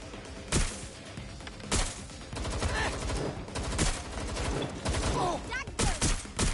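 Automatic turret fire in the video game Watch Dogs, loud bursts of rapid gunshots repeating through the stretch with short gaps between volleys, close and sharp, with some game voices and effects mixed in.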